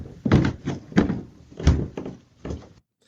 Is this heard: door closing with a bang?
yes